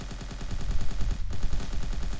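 An AI character in an Unreal Engine 4 stealth action demo fires an assault rifle in a rapid, steady automatic stream of close, loud shots that runs through the whole stretch and breaks only briefly.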